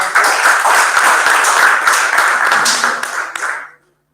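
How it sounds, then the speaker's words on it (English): A round of applause for a coach at a virtual unveiling function, dense and steady clapping for a few seconds that tapers and cuts off into silence. "Coach Alfred, you can just give her one round of applause"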